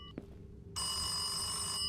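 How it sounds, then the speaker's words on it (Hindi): A telephone rings inside a video game, a steady electronic bell tone that starts abruptly partway through and continues alone to the end, after a brief faint click. "और ओह फोन बजा।"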